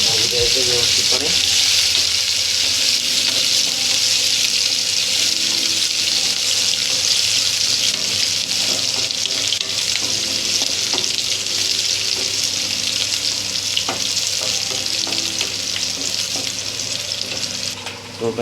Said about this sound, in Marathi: चम्मचने मस्त मिक्स करायचं, चांगलं जरा भाजू द्यायचं व्यवस्थितपणे